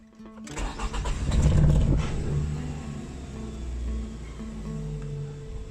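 Nissan X-Trail with a hard-starting P0335 crankshaft sensor fault cranks briefly, then catches and fires up with a loud rising surge before settling into a steady idle, close by.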